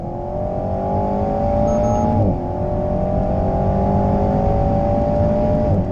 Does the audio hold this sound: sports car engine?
yes